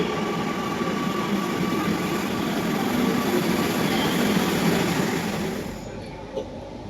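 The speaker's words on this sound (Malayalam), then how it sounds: "ഒരു മെട്രോ വന്നേ" A metro train arriving at a station rumbles steadily close by, a broad rolling roar with a faint high whine, easing off toward the end as it slows.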